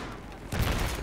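Gunfire erupts in Battlefield 3 gameplay, starting halfway through as a dense, loud burst of shots that continues to the end after a quieter opening.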